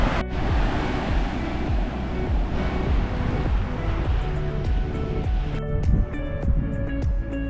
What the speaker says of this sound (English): Better waves here today, more surfers out as well.